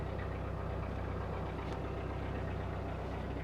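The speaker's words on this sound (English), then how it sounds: "I'm just going to put a little bit of tick over revs on." A narrowboat engine chugs steadily at tick-over revs, a close, even low knocking rhythm running throughout with no voices.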